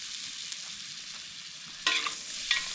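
Deer meat stir fry sizzles steadily in a pan while a utensil stirs it, with a couple of louder scraping clatters near the end; close and fairly quiet, no voices.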